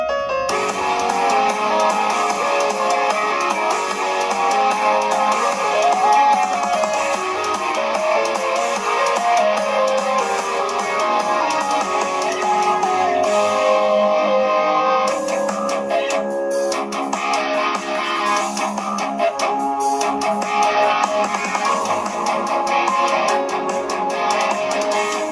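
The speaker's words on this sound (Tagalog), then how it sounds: "Ito ang tunog ng speakers." Dual speakers on an Infinix GT 20 Pro phone play music continuously at a fairly loud, even level, with clear melodic tones over a bright, full mix and little deep bass.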